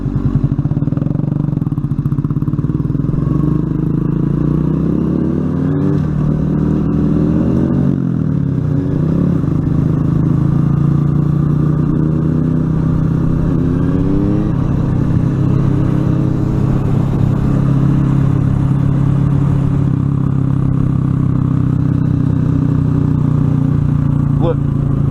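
A motorcycle engine runs continuously while the rider shifts down toward first and changes gears. It is loud and close, with rising and falling rev sweeps, and people talk over it.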